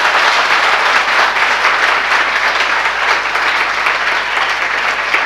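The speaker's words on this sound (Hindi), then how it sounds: "यदि शक नहीं है तो दोनों हाथ खोल के ताली बजाना।" A large audience at a religious discourse claps with open hands, a dense, loud and continuous wash of applause lasting several seconds without any talking.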